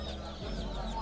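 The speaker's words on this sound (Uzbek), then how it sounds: "Avstralop jo'jalari ha bu." Australorp chicks at a bird market give soft, quick clucking and peeping calls over a short moment, fairly faint against a low background murmur.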